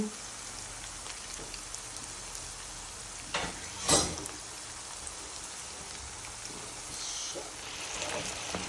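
Fish fry with onions in a pan, a steady, moderately quiet sizzle and crackle that runs continuously, with a brief louder clatter midway, like a utensil touching the pan, and occasional stirring noises.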